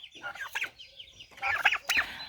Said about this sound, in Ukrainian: У нас залишилися тільки фаверолі.